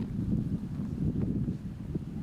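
Steady wind buffeting the microphone at a disc golf tee beside a river, a continuous low rumbling roar with gusty swells and no voices.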